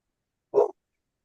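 A dog named Mia lets out one short, close bark, alone in quiet.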